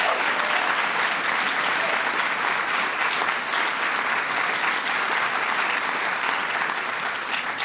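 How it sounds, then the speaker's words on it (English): Loud, sustained applause from a large crowd at a Kennedy Center Honors reception, a dense and even wash of clapping that holds throughout with no pause. "Give them a big round of applause."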